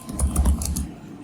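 A quick burst of typing on a computer keyboard: several close, crisp keystrokes in a fast run, then a brief pause, heard alone without any voice.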